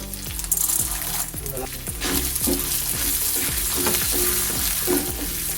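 Urad dal and chana dal dry-roasting in a pan for Tamil pirandai (adamant creeper) thuvaiyal, giving a steady close sizzle and crackle with repeated scraping stir strokes throughout.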